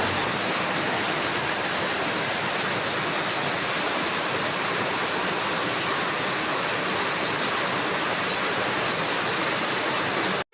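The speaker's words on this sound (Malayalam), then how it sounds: "മുറ്റത്ത് ഭയങ്കര സൗണ്ട് കേട്ടോ. ഞാൻ നോക്കിയപ്പോഴത്തേക്കും നല്ല മഴ." Heavy rain pours steadily in a dense, unbroken roar of water with no let-up, close by and loud throughout.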